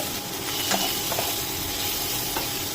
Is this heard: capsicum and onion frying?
yes